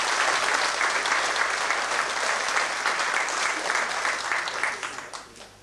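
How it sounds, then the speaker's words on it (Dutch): At a 1991 jubilee ceremony in Gulpen, an audience applauds a nurse who directs a care home. The loud, full clapping holds steady, then fades away in the final second. "Ik zou zeggen, een applaus voor zuster."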